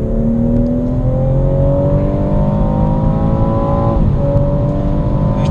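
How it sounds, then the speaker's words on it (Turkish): A BMW M240i xDrive with a 340 hp engine accelerates hard from 80 km/h in sport mode, its engine drone rising steadily and loud from inside the cabin, with a brief dip at a gear change before climbing again. "80'de esnek hızlanmasına bakalım. Sport modundayım."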